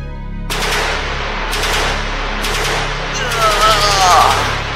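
Sound-effect gunfire in a Halo stop-motion battle: continuous rapid automatic bursts fill the scene, loud and close, with brief pauses between volleys and a whooshing sweep near the end.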